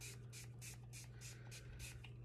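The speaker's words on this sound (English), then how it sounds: "I'm just gonna spray that in this." Spray bottle misting a curl product onto a clip-in hair extension, eight quick hissing bursts in a steady rhythm, close and fairly loud, with no talking.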